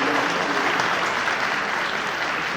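An auditorium audience at a celebration event claps in a dense, steady round of applause that stays loud and even from start to finish, with no talk over it.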